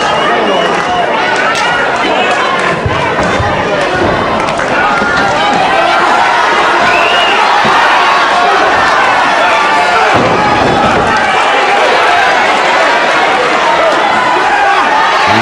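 A British professional wrestling crowd at a 1973 bout shouts angrily at the referee, a dense, loud, continuous roar of many voices with no lulls.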